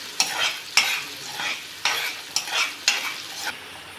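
Chopped onion fries in a pan while being stirred, a close sizzle broken into regular scraping strokes roughly every half second over four seconds.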